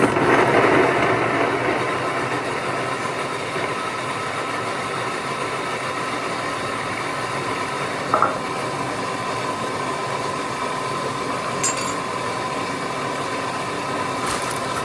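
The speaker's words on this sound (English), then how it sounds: "And we're just going to blend that up. Speed 5 or 6." A Thermomix blends chocolate brownie batter at speed 5 to 6, a continuous even motor whir with a slightly louder start and a couple of faint knocks.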